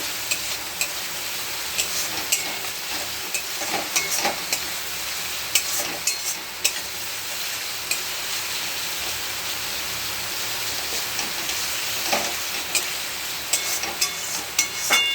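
Garlic and tomato fry in a wok over a base of onion, cumin and ginger, a dense continuous rain-like sizzle with scattered pops and stirring clatter, close and steady for the whole stretch, without speech.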